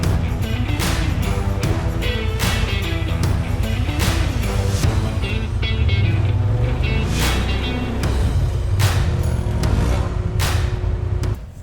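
A 4WD vehicle grinds up a rutted hill track during a night run in the Woodhill forest, its engine revving loudly and wavering in pitch, with scattered clunks and knocks from the suspension.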